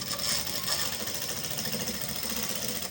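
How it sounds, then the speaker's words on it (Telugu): A sewing machine runs steadily, stitching a straight line along thread piping, its continuous rapid mechanical chatter close and loud with no pauses and no talking. "ఇట్లా ఈ దారం వేసుకున్న దాని వెంట మనము లైన్ కుట్టు వేసుకోవాలి"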